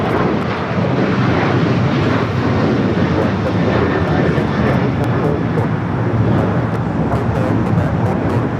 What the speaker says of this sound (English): we got the Emirates A380 Super now pushing back